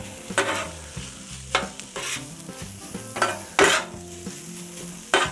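Ground pork is stirred and scraped with a metal spatula on a hot Camp Chef griddle, sizzling steadily beneath repeated clanks and scrapes of the spatula against the steel top.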